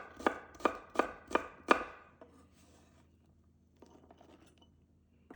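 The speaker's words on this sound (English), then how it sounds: "Roughly chop the garlic" A knife roughly chops garlic on a cutting board while aromatics are prepped for chicken adobo: five sharp, evenly spaced chops ring out close and loud, then give way to faint scraping and light clatter. No one speaks.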